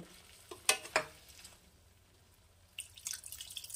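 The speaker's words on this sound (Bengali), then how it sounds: "1/2 কাপ মতন আমি এখানে জল দিলাম" About half a cup of water goes into a Bengali winter vegetable curry in a hot pan, with a few sharp splashing drips and spatters up close, a quieter lull, then renewed sizzling and bubbling.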